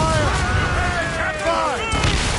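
Ship cannons fire during a naval battle in Assassin's Creed Rogue, with loud booming blasts under a roaring, continuous background of battle noise and shouted voices.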